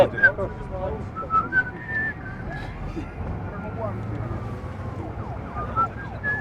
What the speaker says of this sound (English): Look at his face and whistle match of the day.